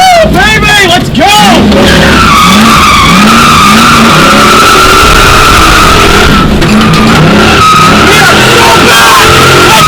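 A Ford Thunderbird just out of storage revs loudly close by while its tires squeal in long rising and falling howls, the engine roaring continuously throughout at full volume.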